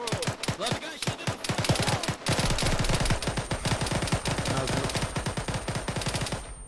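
Rapid automatic gunfire in the military shooter Arma 3, dense bursts of sharp shots rattling nonstop for several seconds, loud and close, with overlapping weapons firing together.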